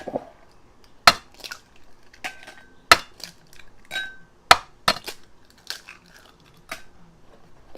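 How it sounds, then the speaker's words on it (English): Four eggs are cracked on a hard rim into a bowl for a cassava custard cake batter, making sharp, close taps and clinks spaced irregularly, with softer knocks and cracks between them and no speech. "Okay, I'm just gonna go ahead and crack it in."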